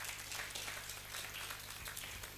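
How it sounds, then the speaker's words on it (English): An audience claps at an evening book launch event, a faint, dense patter of many hands heard from a distance, continuing steadily without voices. "Why don't you give yourselves a round of applause?"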